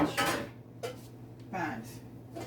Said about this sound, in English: Just checking my pans here